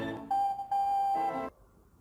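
A short electronic alert chimes in two quick tonal beeps, clear and close, then stops.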